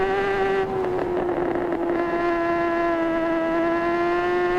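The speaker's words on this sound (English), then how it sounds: "I know it sounds like a drone, but I like the bike sounds a lot." Racing motorcycle engine in the Isle of Man TT 3 road racing game, a high steady whining drone with a brief dip in pitch before it holds level again, loud and close with no speech.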